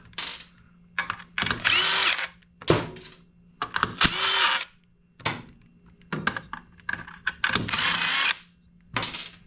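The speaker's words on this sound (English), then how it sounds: "You can undo the center bolt." Power tool bursts undoing the center bolt on a Serveta Performer shock during a rebuild, several loud whirring runs of a second or so each, separated by short pauses with faint clicks.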